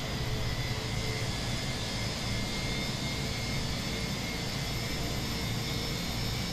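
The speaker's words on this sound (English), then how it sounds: "IAE engine spooling up." An IAE jet engine on an Airbus A320 in a flight simulator game spools up into a steady, loud, dense roar with a faint high whine, holding even throughout.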